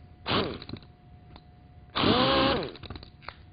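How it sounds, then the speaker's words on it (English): A Model 890 random orbital sander runs in two bursts, a short one followed by a longer steady whine, with the motor pitch sliding as it spins up and down, close and loud, and no talking. "Let me try the one-finger test with the Model 890 sander."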